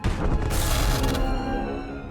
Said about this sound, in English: Critical explosions detected on the foundry level.